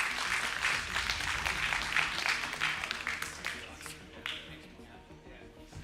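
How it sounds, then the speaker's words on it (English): Applause at a live Marvel Contest of Champions quiz show during a Summoners Fest finals event, with a steady wash of clapping from an audience that gradually fades, heard beneath a speaking voice. "I like the one person that clapped when I said Falcon."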